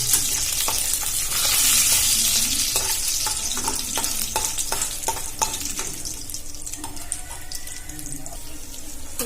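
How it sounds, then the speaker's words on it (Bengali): Peanuts frying in a pan for chire pulao, a steady hiss broken by a quick run of rhythmic scraping and tapping strokes near the middle, close and fairly loud. "আমি চীনাবাদামগুলো ভালো করে ভেজে নেব,"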